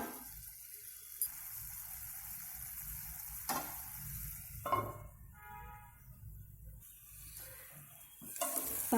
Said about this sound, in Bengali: 3-4 মিনিট পর ঢাকা খুলে শাকটা একটু নাড়িয়ে নিচ্ছি।